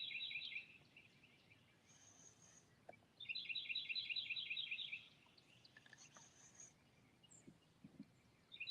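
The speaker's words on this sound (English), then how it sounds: "I can hear the birds chirping behind you." Faint birds chirping in the background at Lake D'Arbonne, with repeated rapid twittering bursts and scattered short calls over a quiet outdoor hush.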